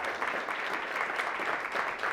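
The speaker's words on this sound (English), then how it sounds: "So please, a round of applause." A room of people applauds at a Wisconsin Athletic Hall of Fame gathering, steady moderate clapping from many hands that carries evenly without voices.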